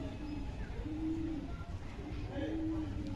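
A female green piling Giribaj pigeon gives three soft, low coos spaced across a few seconds, close by, with faint talk in the background.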